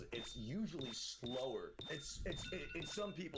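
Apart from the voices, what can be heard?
alarm going off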